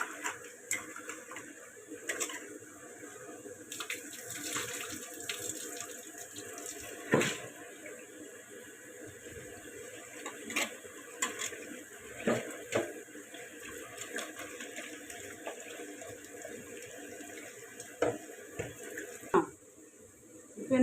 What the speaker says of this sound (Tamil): நல்லா அலசுறோம்